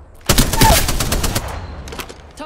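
Rapid burst of automatic gunfire in the video game Apex Legends, loud, close cracks in quick succession, fading into scattered distant shots.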